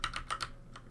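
Quick computer keyboard presses while playing Conrad, four sharp clicks in rapid succession and then a single softer tap after a short pause, up close with no talk.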